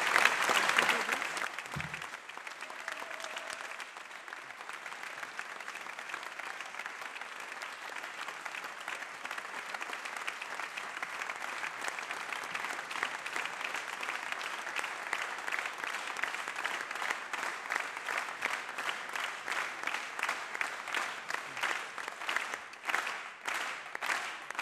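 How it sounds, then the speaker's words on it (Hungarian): Sustained audience applause at a stage gala for talented students and Nobel laureates, a dense, steady wash of many hands clapping that carries on for a long stretch, with a few faint voices over it early on. "Így van, várjuk Pál Csabát egy óriási taps kíséretében."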